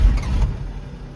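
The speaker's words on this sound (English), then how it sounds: "Trying to crank it, but giving it just a tad bit of throttle. See if we can get it to clear out and keep running." A cold car engine cranks and sputters with a touch of throttle, struggling to stay running; a loud, uneven low rumble surges briefly, then settles into a rough idle.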